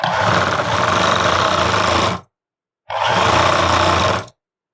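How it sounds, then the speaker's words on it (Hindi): A sewing machine stitches the neckline of a suit in two close, loud bursts of rapid mechanical whirring, the first about two seconds long, then a short pause and a second shorter run. "तो पहले इस पे सिलाई लगा लेते हैं।"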